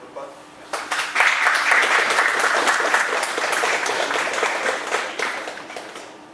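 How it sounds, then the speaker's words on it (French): An audience at a club training event applauds a guest named Guillaume, clapping swelling in after a quiet first second into a full, steady round close by, tapering slightly near the finish. "d'applaudir"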